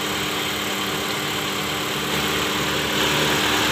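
A Honda City i-DSI engine idling rough with a misfire on the third cylinder, a steady close mechanical drone with an uneven vibrating shudder and no talking.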